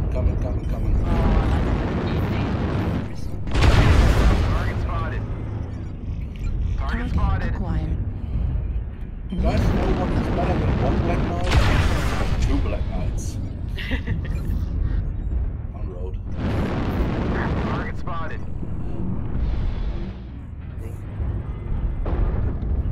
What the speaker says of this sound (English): We got missiles.